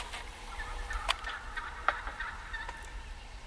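Two wild turkey toms gobbling in an open field, faint and distant, several short rattling gobbles over a low steady outdoor hum.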